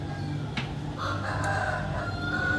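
A rooster crows once, a drawn-out cock-a-doodle-doo rising over a noisy, steady background, fairly near and clear.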